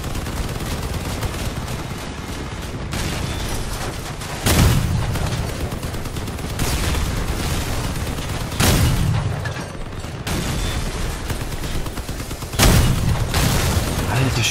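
Sustained gunfire and heavy bursts from vehicle combat in the game Crossout, a dense continuous rattle punctuated by three loud booming blasts spaced a few seconds apart.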